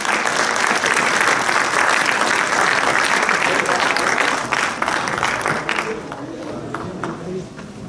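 Stage drama audience gives loud, sustained applause for an actress after her role, dense clapping filling the hall and gradually thinning toward the end.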